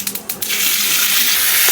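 Water is poured into a hot pan of tempering with mustard seeds, curry leaves and Kashmiri red chili, giving a few sharp crackles followed by a loud, steady sizzling hiss close by.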